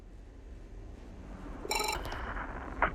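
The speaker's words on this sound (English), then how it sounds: "And the phone rings again." A telephone rings once in a horror video game, a short bright electronic trill cutting through a dim, low ambient drone, followed by faint tonal blips.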